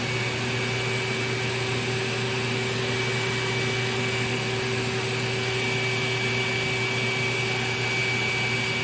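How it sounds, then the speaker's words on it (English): Lindhaus Healthcare Pro vacuum cleaner running on a single motor, a steady, unbroken motor whine and airflow hiss with a constant tone, close and even throughout. "we'll start with one motor on"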